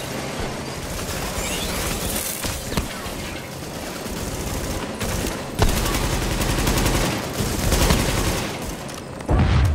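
Heavy gunfire in the video game The Division, sustained automatic bursts and fusillades with sharp single shots and booms, loud and close, with brief gaps between volleys.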